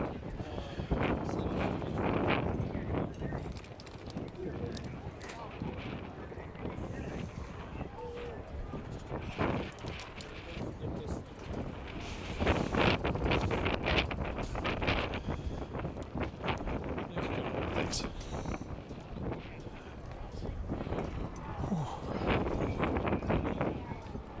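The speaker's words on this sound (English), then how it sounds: "Wind picking up a little bit now." Gusty wind buffets the microphone at an outdoor baseball game at Long Lake, a steady loud rumble with surges and hiss throughout, mixed with faint background activity and occasional voices.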